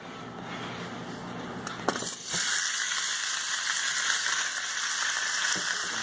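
Pork, still partly frozen, frying in a little oil in a hot pan for jambalaya, with a steady loud sizzle throughout and a few brief knocks near the start.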